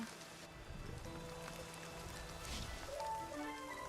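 Rain in a video game: a soft, steady wash of rain with light drop patter, fairly quiet, with faint tonal game sounds near the end.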